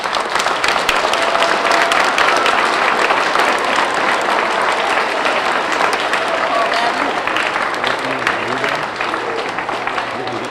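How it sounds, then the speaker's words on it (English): Middle school students at a Veterans Day program applaud themselves, a loud, dense and continuous burst of clapping from a large crowd that holds for the whole stretch, with voices mixed into the noise. "I think it's about time that you guys gave yourselves a big round of applause for a job well done."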